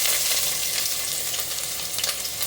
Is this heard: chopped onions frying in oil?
yes